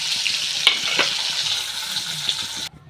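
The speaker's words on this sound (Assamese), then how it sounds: "তাকে মাছখিনি ভাজি লওঁ" Mirga fish pieces fry in hot oil in a pan, a loud, close, continuous sizzle with a few sharp spatters and stirring clicks, cutting off abruptly near the end.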